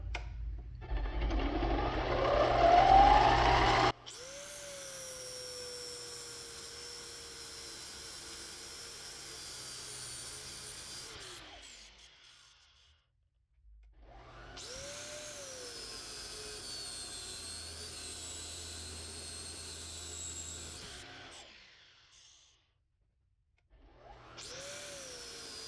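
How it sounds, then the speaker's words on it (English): A 650cc two-stroke triple engine is spun over by an angle grinder in bursts, with a steady whine and mechanical churning that stops and restarts in three long runs, each separated by a near-silent gap. "I'm going to grab the angle grinder, and I'll just let this spin, and I'll just put the angle grinder on it"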